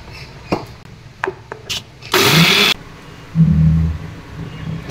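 An electric mixer-grinder blends black mustard seeds, green chilies and nigella seeds into a paste in a short, loud whirring burst near the middle, with a few faint clicks and knocks before it and a low hum afterward.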